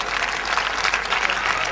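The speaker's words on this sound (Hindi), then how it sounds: "आपकी तालियां बताती हैं कि आप उन्हें कितना प्रेम करते हैं।" A live audience at a kavi sammelan poetry gathering in Mandsaur claps for a poet, a steady burst of dense applause lasting a couple of seconds, close and even in loudness.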